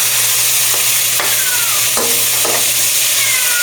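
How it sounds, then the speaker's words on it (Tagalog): Pork sautéing and browning in a pan gives a steady, loud sizzle throughout, with a few brief clinks and scrapes of a utensil stirring the meat. "ginisa ko lang muna yung pork. Ayan, pa-brown muna natin siya."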